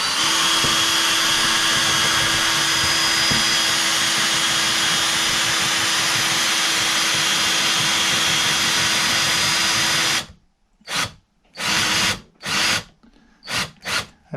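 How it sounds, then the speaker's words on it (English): A power drill drives a caravan jockey wheel leg down during a refurb, a loud steady whirring for about ten seconds, then cutting to silence broken by a few short bursts. "now what I'll do is I'll get my drill back on the top and we'll drive it down"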